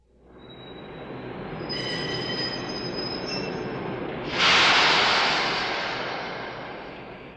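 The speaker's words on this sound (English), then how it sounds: "This is a train." A French train rolls past with a steady rumble and high, piercing wheel squeal, swelling louder near the end before slowly fading.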